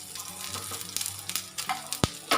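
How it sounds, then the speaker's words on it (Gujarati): Aloo tikki potato patties shallow-frying in a pan until browned, giving a quiet, steady sizzle with a few sharp clicks and one louder knock near the end, no talking. "આપણે એનો બ્રાઉન કલર થાય ત્યાં સુધી આપણે એને શેકાવા દેવાની"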